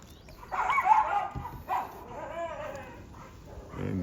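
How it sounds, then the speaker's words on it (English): Dogs bark next door in a few excited bursts, moderately distant, with whining tones between barks. "And the dogs are going nuts next door."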